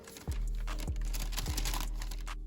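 Tissue paper crinkles inside a Jordan 1 Low shoe box as it is opened, a few sharp rustling crackles close up over a low steady hum.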